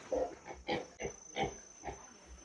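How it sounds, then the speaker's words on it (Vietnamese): Pigs grunting and snuffling as they eat distillery mash from a traditional rice-wine still, about six short grunts in quick succession, close and fairly loud. "Heo nó ăn hèm tốt dữ lắm luôn."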